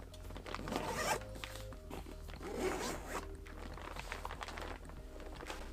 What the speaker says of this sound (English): All accessible via this back zipper.